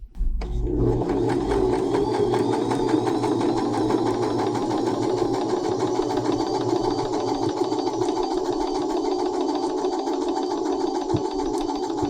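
A longarm quilting machine stitches a door hanging in a steady, rapid mechanical chatter with a low motor hum beneath, continuous and close throughout with no talk.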